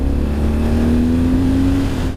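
Engine note of a BMW R12 G/S heritage adventure motorcycle, a loud steady drone that rises gently in pitch as it revs, heard alone and up close.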